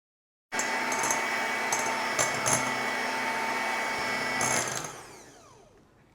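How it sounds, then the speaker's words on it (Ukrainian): An electric mixer whips egg whites as sugar is added gradually for a chocolate cotton sponge cake, running as a steady whirring drone with a few brief clatters before winding down near the end. "Збиваємо трошки білочок і поступово додаємо цукор."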